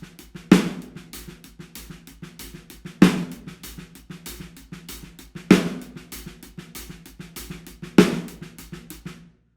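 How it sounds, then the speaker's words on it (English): A drum groove of steady rapid sixteenth-note single strokes, with a louder accented hit recurring about every two and a half seconds, close and clear. "an easier way to perhaps to play this groove is to play constant 16th notes"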